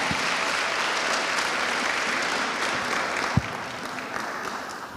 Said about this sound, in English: So can we give him a round of applause for that